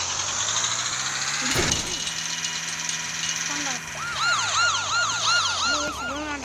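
A police car siren in a video game about a prison escape wails loudly and repeatedly, its rising and falling tone sweeping for several seconds over engine noise, with a brief sharp burst near the start.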